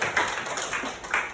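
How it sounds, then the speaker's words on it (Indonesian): A class of students claps hands together in a short burst of quick, uneven claps in a classroom, heard close and moderately loud. "kasih tepuk tangan kita dulu"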